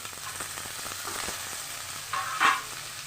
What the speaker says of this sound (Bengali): আমি কেটে রাখা আলু, গাজর, এগুলো আমি সব উপকরণগুলো সব দিয়ে দেবো একসঙ্গে